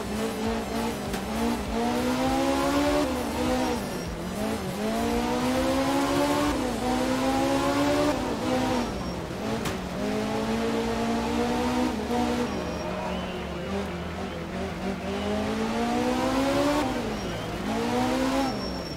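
A BMW M3 rally car in the video game Art of Rally revs hard through repeated gear changes, its engine rising and dropping in cycles with tyre noise, loud and continuous throughout.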